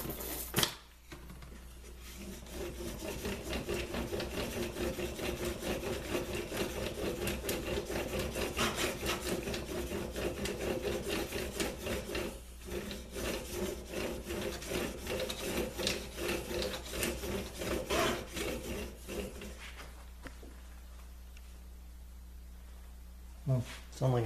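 Steel blade drawn back and forth across a fine diamond sharpening stone, a continuous close gritty rasping in repeated strokes that pause briefly midway and fade near the end.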